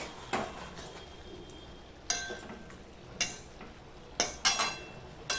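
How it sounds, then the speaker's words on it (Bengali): A spoon stirs chunks of sour mango, tomato and eggplant in a cooking pan for a vegetarian pachan dish. Faint, quiet scrapes and clinks come in irregular bursts roughly every second, with no voices. "এবার একটু নেড়ে নেবো মিনিট খানেক"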